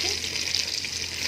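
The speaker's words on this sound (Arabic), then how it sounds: "أنا هنزل بقى بالمية بتاعتي" Water pours into a pot of okra that has been sautéed in butter, making a steady splashing hiss with a sizzling edge, close and continuous throughout.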